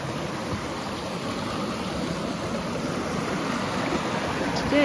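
A little forest creek flows with a steady, close rushing and babbling of water, constant and moderately loud with no voices over it.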